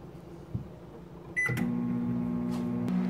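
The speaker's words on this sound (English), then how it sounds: "Microwave it for 1 minute on high." A microwave oven starts with a beep and a click, then hums steadily at a close, even drone.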